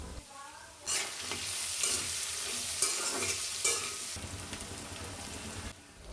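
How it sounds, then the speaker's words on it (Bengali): Chopped onions are tipped into leftover fish-frying oil in a wok and burst into a loud sizzle, with scraping stirs and bubbling frying that continues steadily throughout. "কড়াইয়ের মধ্যে মাছ ভাজার অবশিষ্ট তেলগুলো দিয়ে দিলাম আর এর মধ্যে আমি পেঁয়াজ কুচি করে নিয়েছি তো সেগুলোই দিয়ে দেবো"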